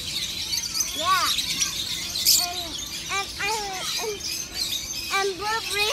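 Lovebirds chirp in short, bright calls that come every second or so and rise and fall in pitch, while people talk nearby.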